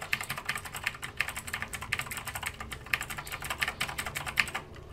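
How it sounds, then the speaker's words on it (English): Steady, fast clatter of keys on a mechanical keyboard, close and crisp with dense rhythmic clicks throughout and no voices. "It's a mechanical keyboard, dude."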